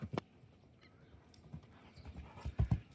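A horse running around a ring in the morning sun makes soft, faint clip-clopping hoofbeats that grow a little louder near the end, with no one speaking.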